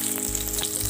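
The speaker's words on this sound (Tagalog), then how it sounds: "pagkatapos, lutuin ang bawang" Garlic sizzles in a hot pan in preparation for a clam shell soup, a close, continuous frying hiss with a couple of brief stirring scrapes.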